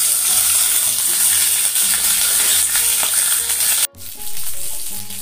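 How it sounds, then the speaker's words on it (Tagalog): Fish fries in a pan with a loud, continuous sizzle and crackle up close, briefly cut off for a moment before the hissing resumes. "Frying the fish."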